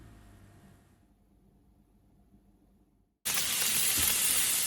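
Beef hits a hot pan for a stir-fry and starts sizzling loudly and close by, a sudden bright hiss after a near-silent moment.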